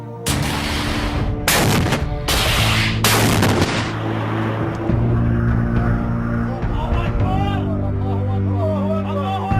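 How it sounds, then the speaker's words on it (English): Rebels fire US-made anti-tank TOW missiles in several loud, booming blasts early on, followed by a sustained roar and outdoor rumble with voices shouting in the background. "Many of the fighters have filmed themselves firing the missiles."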